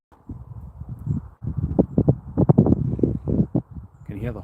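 Horse hooves clip-clop outdoors near an airport, a loose, irregular run of soft knocks, with people talking alongside.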